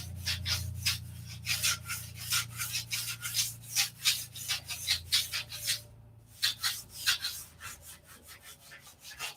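Rhythmic sanding of balsa bulkheads with 180 grit sandpaper, quick repeated strokes that rasp and sing close up, pausing briefly midway before resuming at the same brisk pace.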